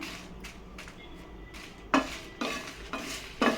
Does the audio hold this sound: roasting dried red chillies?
yes